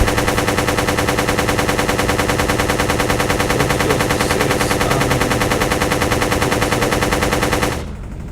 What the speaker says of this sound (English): this is a lot like Space Invaders, where you gotta shoot like that